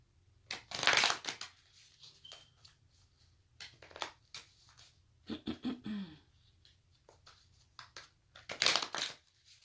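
Tarot cards shuffled by hand in crisp riffling bursts, a loud flurry near the start and another near the end, with softer intermittent card slaps and rustles between and no talking.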